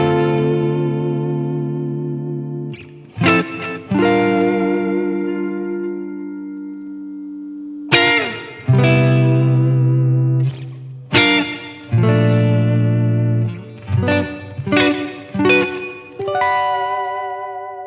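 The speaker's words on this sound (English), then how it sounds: "Okay, so let's add a little bit of reverb and delay." An electric guitar through a Boss Katana amplifier plays sustained notes and chords, each plucked attack followed by lingering delay echoes and a wash of reverb, loud and alone.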